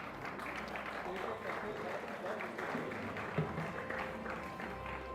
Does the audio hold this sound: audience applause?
yes